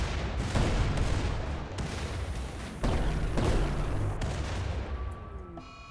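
Antimatter grenades in the video game Rimworld go off in a rapid barrage of loud, overlapping blasts and booming gunfire, several sharp detonations stacking up before the noise thins into fading electronic tones at the end.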